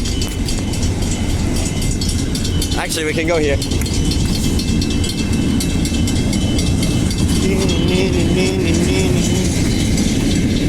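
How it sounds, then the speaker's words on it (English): A long Pacific National freight train rumbles steadily past a level crossing on Helena Street, Midland, a continuous heavy roar of rolling wagons, with a person speaking briefly over it and a brief squeal. "there's a freight train coming through right now"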